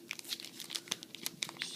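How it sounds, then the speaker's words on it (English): Plastic wrap crinkles and tears as it is pulled off a new Apple wireless keyboard, a close, quiet run of irregular crackles and rustles with no talking. "Take off the plastic."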